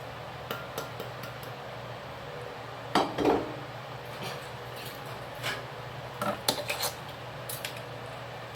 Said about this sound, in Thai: เราก็จะมาคนส่วนผสมให้มันเข้ากัน